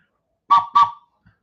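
Geese give two loud, close, nasal honks in quick succession, followed by a faint short note, against silence.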